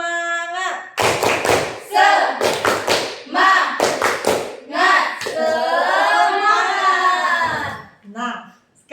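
A group of children in a school psychodrama counseling session clap and slap out a rhythmic chant game, sharp hand taps and thumps in bursts alternating with loud shouted chanting voices close by.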